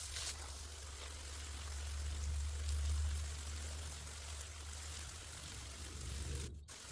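Water is poured over layered materials on a homemade compost pile in a small farm or garden, a steady trickling stream running throughout over a low outdoor rumble.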